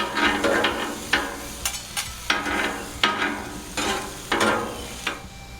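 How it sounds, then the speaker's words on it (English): Onions sizzle steadily on a Blackstone griddle with only two burners lit, broken by several sharp scraping flips of a spatula at irregular intervals, close and fairly loud with no voices. "Just flip these onions a bit."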